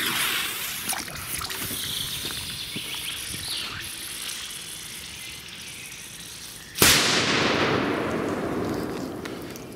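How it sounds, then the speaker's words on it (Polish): An Achtung firecracker thrown into water bursts with one sudden loud bang about two-thirds of the way through, followed by a hissing wash of spray. Steady insect-like outdoor noise fills the background before the blast. "Ale są w miarę głośne te petardy."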